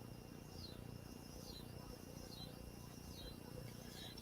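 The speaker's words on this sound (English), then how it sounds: "As I'm sitting here, I'm listening to the cicadas singing outside." Cicadas sing outdoors on a summer night, a continuous faint buzzing drone with slow, repeating pulses of rising and falling shrill trills over a low hum.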